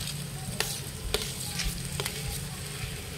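Mashed potatoes sautéed in a pan with green chillies and cumin, a soft steady sizzle with a few sharp scrapes and knocks of a spoon stirring against the pan, fairly quiet and close.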